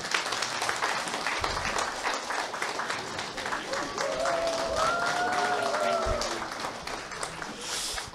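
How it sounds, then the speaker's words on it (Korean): A lecture audience applauds a visiting martial arts director at a year-end seminar, with sustained, even clapping across the room while a faint tonal sound rises briefly in the middle. "박수 한번 쳐드립시다."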